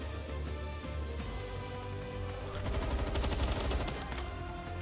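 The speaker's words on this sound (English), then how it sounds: "That rocket launcher's kind of busted, though." In Palworld, a rocket launcher fires amid rapid gunfire, a steady burst of repeated shots that grows denser partway through, fairly faint and with no talk over it.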